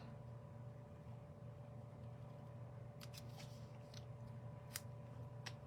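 Faint snips of scissors cutting paper come in a few quick strokes over a steady low background hum.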